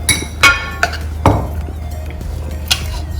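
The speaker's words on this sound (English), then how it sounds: "Then I will chop my avocado." A knife cuts through a ripe avocado on a hard kitchen surface, giving a few sharp clicking knocks spaced irregularly over a quiet room hum, close and fairly loud.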